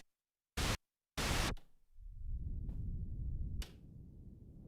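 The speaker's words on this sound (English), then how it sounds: "going to use the white noise" A Behringer Odyssey synthesizer's white noise generator gives two short bursts of bright broadband hiss, then a lower rumbling noise swells and sustains, with a brief hissy flicker partway through.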